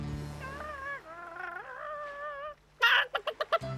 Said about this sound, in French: sinon cette poule va encore nous échapper.